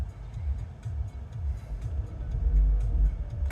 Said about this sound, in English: goddamn car noises